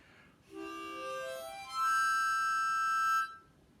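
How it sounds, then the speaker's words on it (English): A blue harmonica plays a short phrase of held reedy notes, one tone sliding upward before a brighter, sustained chord rings out and stops, heard alone and fairly close. "yeah, it's a harmonica"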